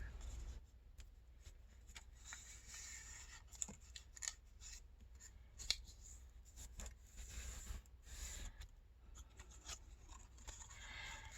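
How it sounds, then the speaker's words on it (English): Scissors snip hinge material to length for a papercraft tag flip pocket, making a quiet series of close, irregular clicks and rustling paper handling sounds. "the next thing I'm going to do is I'm going to cut my hinges to length"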